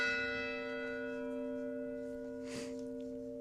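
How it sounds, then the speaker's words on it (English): Bells ring with a sustained, decaying metallic tone, several pitches layered and fading slowly, fairly faint with a soft rustle partway through. "One bell, I guess? No, there's several."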